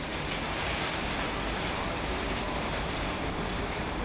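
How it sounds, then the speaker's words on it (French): Rain pours steadily onto a veranda roof as a dense, even hiss, with wind gusts mixed in and no voices. "pardonnez-moi pour le bruit de la pluie sur la véranda"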